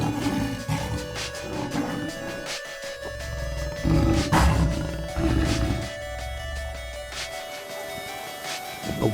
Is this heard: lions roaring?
yes